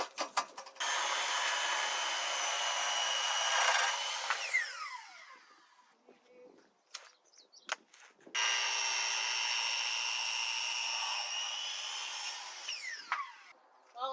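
A corded power saw whines loudly through two long cuts in wood, with a brief pause between them and the motor spinning down at the end of each.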